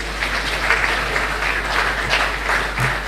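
An audience applauds a panelist at a discussion on Nigeria's post-oil economy, with steady, sustained clapping from a crowd throughout and a low constant hum underneath.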